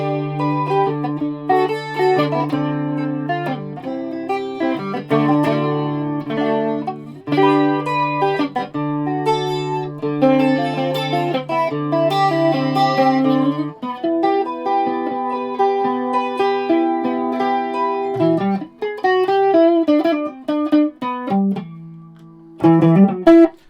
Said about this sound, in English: Maybe it's a slight 12 stringer sound.